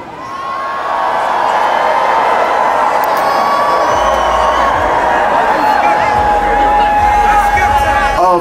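A big festival crowd at Wireless Fest 2021 cheers and shouts loudly and continuously, a dense roar of voices swelling after the first second and holding steady throughout.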